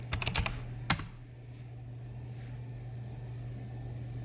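Quick taps on a computer keyboard form a short flurry of keystrokes and one last louder key press, heard close and alone. A steady low hum continues beneath them.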